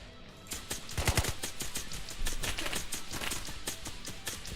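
A submachine gun fires continuously in a video game shooter called Operator, a rapid stream of crisp shots at a moderate, steady level, with a brief heavier cluster of impacts early on.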